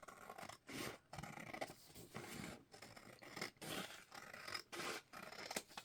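Scissors snipping through a crochet piece for a journal, a run of close, crisp cutting strokes with short pauses between snips, with no talking.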